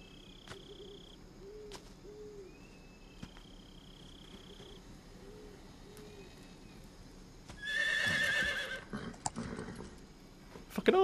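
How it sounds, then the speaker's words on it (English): A horse in a jungle in Metal Gear Solid 3 lets out one loud, shaky whinny after a quiet stretch of soft jungle calls and hoots. "There's a horse somewhere. In the jungle."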